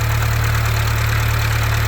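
A rebuilt Atomic 4 marine engine idles steadily up close, a loud, even low-pitched drone with a faint regular knocking pulse and no talk.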